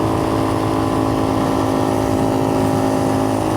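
An X-Pro Templar 250 five-speed dual sport motorcycle runs near 50 on paved road, its engine wound out in a constant high, buzzing drone with strong steady harmonics, loud and close, with no one talking.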